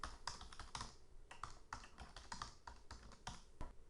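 Rapid keystrokes on a computer keyboard while a name is entered into a document-management application, a steady run of close, crisp clicks with brief pauses and no talking.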